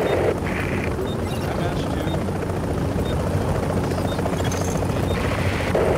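Extraction helicopter in the video game The Division, a steady loud rotor drone filling the whole stretch with faint gunfire-like pops mixed in.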